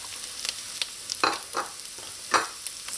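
Thyme and scallions sautéing with softened onions and hot pepper for Trinidad corn soup: a soft, steady sizzle with several distinct spoon strokes scraping the pot at irregular intervals, close and quiet, no talking.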